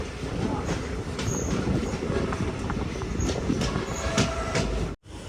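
Mangaluru Express pulling out of Ezhimala station, a steady, dense rumble of wheels and carriages with faint squeals and clicks throughout, dropping out briefly near the end.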